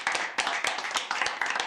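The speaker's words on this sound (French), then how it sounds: "Applaudissons." Guests at an evening reconciliation party applaud in a brief, dense burst of clapping, fairly close and lively, with no speech over it.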